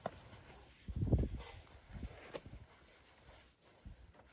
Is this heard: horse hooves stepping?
yes